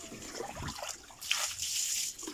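Gentle splashing and trickling water, faint and close, as animals are bathed in a backyard farm pen during hot weather, with soft irregular pours.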